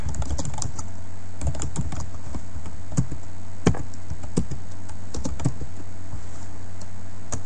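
Steady typing on a computer keyboard, rapid close clicks and taps with occasional harder keystrokes standing out, over a constant low hum, with no voices.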